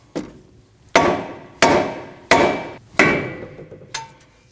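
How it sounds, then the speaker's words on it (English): Five firm rubber hammer blows on the steel steering knuckle of a 2013-2019 Ford Escape, freeing the outer tie rod, evenly spaced about a second apart, each sharp thud followed by a short ringing decay, then a lighter tap. "you can strike your knuckle with the rubber hammer to remove your outer tie rod from your knuckle"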